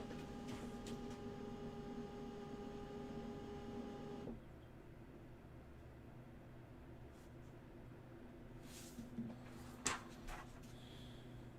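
A printer runs alone for about four seconds with a steady mechanical hum, then stops, leaving quiet room tone with a few faint clicks and knocks.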